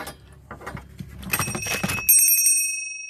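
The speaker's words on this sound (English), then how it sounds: "But it's a cool brass little bell piece." A small brass bell from a matching candlestick-holder set is handled with some clattering, then rings out with a single bright, clear tone that lingers and slowly fades, close and fairly loud.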